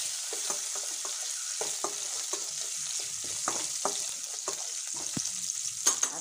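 Cumin, curry leaves, green chillies and peanuts frying in hot oil, a steady crackling sizzle with small irregular pops and stirring scrapes, close and moderately quiet, no talk.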